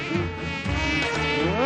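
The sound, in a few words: flies buzzing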